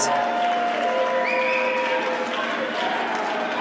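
Crowd applause at a wheelchair curling mixed doubles round robin match between Italy and China in Milan, a steady broad wash of clapping in an indoor arena running under commentary.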